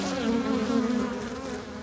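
Bumblebees buzzing up close, a continuous loud droning hum with a steady pitch that wavers slightly as the wings beat, heard alone without any voices.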